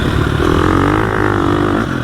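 A 2021 Gasgas EX 350F dirt bike engine held at high RPM on a fire road, loud and close with a steady raspy bark and a slight pitch sweep, no talking.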